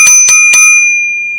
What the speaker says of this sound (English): And that is the alarm sound all the drivers will receive